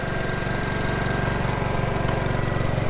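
A dual fuel generator mounted onboard a truck camper runs steadily, a loud, even engine drone with a fast rhythmic chug throughout, no pauses.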